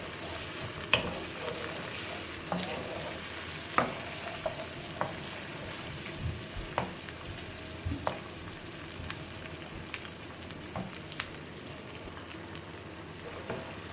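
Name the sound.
onion and tomatoes frying in oil while stirred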